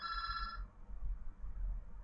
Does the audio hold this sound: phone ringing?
yes